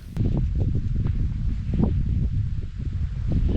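Strong wind buffets and roars across the microphone continuously on the cold summit of the Corrieyairack in Scotland, with gusty rustling swells and no voices.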